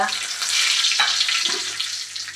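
Mustard seeds and curry leaves sizzle in three tablespoons of hot oil in a clay pot on the stove for a Christmas pickle, a steady close crackling hiss throughout.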